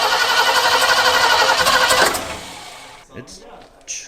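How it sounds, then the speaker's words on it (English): A Ford Ranchero engine cranks and tries to start, with a rapid, rhythmic starter churning for about two seconds that fades out, followed by a pause and a couple of brief sputters. "It's trying, but it sounds a sad ignition or something."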